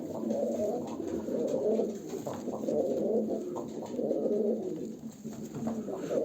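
Tumbler pigeons coo close by in a steady, rolling stream of low, throaty calls that overlap and swell in repeated waves, with no talking.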